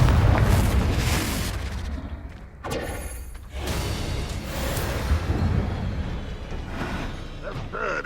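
A Confringo fire spell goes off in Hogwarts Legacy: a steady, heavy booming roar with thuds and a short bright crackling blast near the middle, loud and close, with game ambience throughout.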